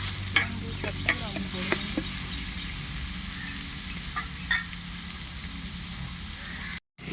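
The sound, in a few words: sautéing onions with fennel and cardamom for egg gravy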